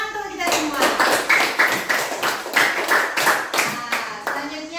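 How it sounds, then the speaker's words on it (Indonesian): A school class clapping hands in applause, rapid dense claps at a steady moderate volume with voices mixed in underneath. "tepuk tangan untuk kita semua."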